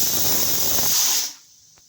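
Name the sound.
pressure cooker whistling on gas stove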